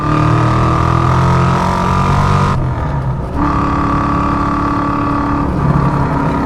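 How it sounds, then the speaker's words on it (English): Exhaust of a 1990 Ford Mustang GT with a Procharged 5.0 V8 and five-speed, heard from inside while driving: a steady moderate droning note that briefly drops during a shift, then resumes. "The exhaust has a good note, not terribly loud."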